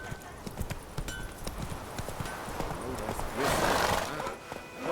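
Roach the horse in The Witcher 3 video game, hooves clip-clopping in a steady walking rhythm close by, with a neigh swelling partway through and a voice speaking over it.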